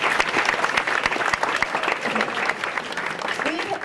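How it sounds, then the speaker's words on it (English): Diners at a volunteer recognition dinner applaud the volunteers, a full room of dense, steady clapping with a few voices mixed in beneath it. "So you can give them a round of applause."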